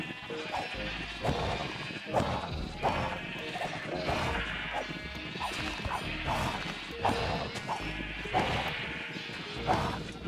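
Minecraft sheep bleat a few times over a busy, dense game soundscape of crashes, thumps and sharp effects, running loud and continuous throughout.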